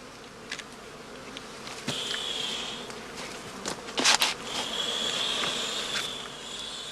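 Bees buzz around straw skep hives at a heather-blossom apiary in summer, a soft continuous hum with individual bees zipping close past now and then, plus faint rustles and handling noises.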